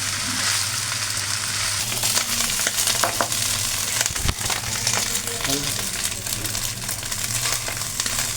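Mixed fried rice with green chili sauce being stirred slowly in a pan over a gas flame: continuous frying sizzle with repeated scraping and crunchy rustling of rice under the spatula, moderately close and steady.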